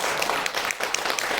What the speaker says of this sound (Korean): 우리가 환영한다는 박수 같이 할까요?